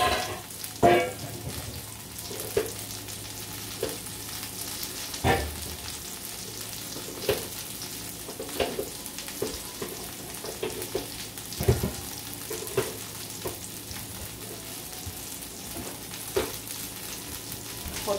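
Potatoes and bacon fry in a pan with a steady close sizzle, broken by repeated clanks and scrapes of stirring, with no talking.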